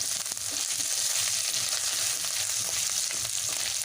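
Steady, loud sizzling of ginger and cumin frying in hot oil, continuous and close, with no voices.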